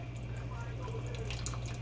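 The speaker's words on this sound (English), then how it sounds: "I'm going to put this onto another pot where I am going to then drain this water out" Pasta cooking water for linguine with meat sauce and shrimps is drained from a pot, giving a light, trickling splash of running water under a steady low hum.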